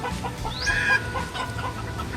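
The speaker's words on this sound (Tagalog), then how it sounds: "tumitilaok yung manok, tapos yung habo naman ganun din, pag magsabay-sabay mangingay" A rooster crows once at moderate distance, a rising then held call, over a background of clucking and farmyard murmur.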